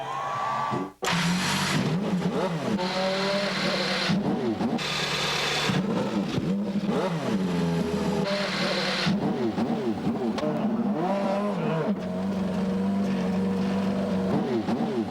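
A field of 28 Indy cars at the 1995 CART race at Long Beach starts engines and revs, with repeated rising and falling whines over a constant engine roar, loud and close.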